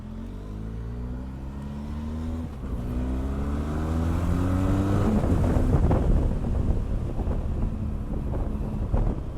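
A 2020 Benelli TRK 502X motorcycle is ridden on the road, its engine note rising as it accelerates. Strong wind rush over the microphone partly masks the engine and grows heavier as the speed builds.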